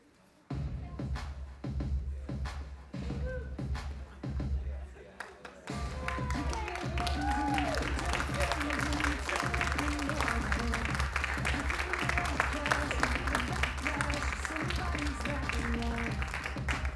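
Audience applause for teen student speakers at a TeenSpeak event, a steady dense clapping that swells after a few seconds and carries on, with a low hum beneath and voices talking over it.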